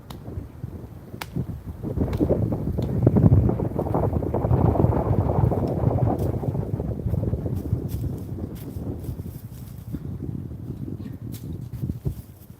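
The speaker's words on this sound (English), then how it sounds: "This wind is ripping, guys." Strong wind blowing outdoors in a yard in Florida, a steady loud roar buffeting the microphone in rising and falling gusts, with occasional faint clicks and no talk.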